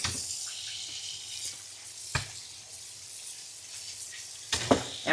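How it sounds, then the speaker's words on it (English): Cold tap water runs steadily into a cooking pot in a home kitchen, a continuous hiss of flowing water with a couple of brief clunks and splashes. "You're going to immediately hit that with some cool water so that it stops cooking"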